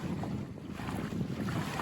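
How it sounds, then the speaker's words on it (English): Steady southwest breeze buffets a Buccaneer 18 sailboat crossing the Columbia River near Rooster Rock, a constant low rush of wind with water wash against the hull, no voices. "just a wonderful steady breeze out here right now"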